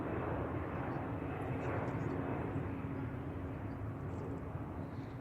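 A United Airlines Boeing 737-800 arriving from Phoenix at San Francisco Airport sends a broad, steady jet roar that stays loud and constant throughout, with no talking over it.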